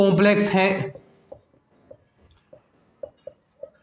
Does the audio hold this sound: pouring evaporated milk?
no